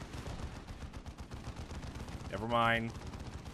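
A squad shooting in Dawn of War 2, a dense stream of rapid gunfire under a short spoken phrase, with a brief rising tonal effect near the end.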